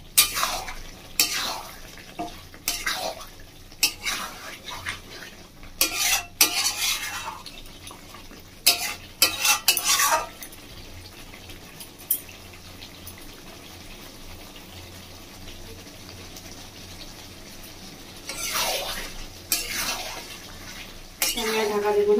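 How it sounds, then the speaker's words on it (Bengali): Chicken kosha, Bengali style, being stirred and sautéed in a pan with a spoon, giving repeated scraping and clinking bursts between quieter stretches of low simmering. "আমি আর ঢাকা দেবো না, এইভাবে একটু কষিয়ে নেবো 2-3 মিনিট মতো"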